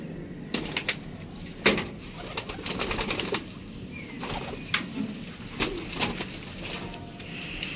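Pigeons cooing on a rooftop loft, soft repeated coos mixed with occasional wing flaps and rustling, fairly close and moderately quiet.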